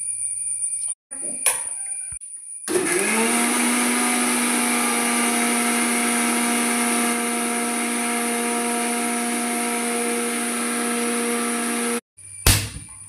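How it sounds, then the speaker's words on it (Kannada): A mixer grinder whirs loudly and steadily for about ten seconds, grinding ingredients with a little milk, starting and stopping abruptly, with brief clatter before and after. "ಇದು ಹಾಕಿ ಮಿಕ್ಸ್ ಮಿಕ್ಸಿಯಲ್ಲಿ ಗ್ರೈಂಡ್ ಮಾಡಬೇಕು"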